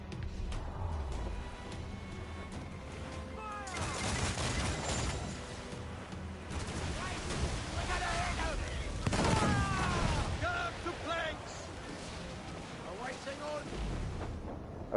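A mortar and naval guns fire in a PS4 video game, with several heavy booming blasts and rumbling explosions over a busy battle background, while a voice talks over parts of it.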